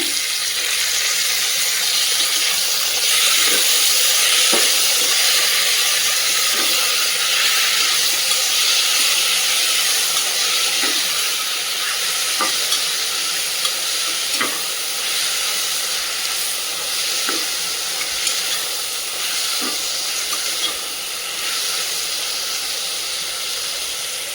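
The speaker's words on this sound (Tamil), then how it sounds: "வெங்காயம் நல்லா வெறும் கலரில் வதங்கினோன்னா கட் பண்ணி வச்சுருக்க தக்காளியை ஆட் பண்ணிக்கோங்க" Chopped tomatoes land in a pan of sautéed onions for chicken biryani, producing a constant loud frying hiss with scattered light ticks and pops from the pan over a long stretch, no voices.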